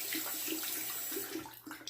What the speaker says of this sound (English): I gotta wash my hand off here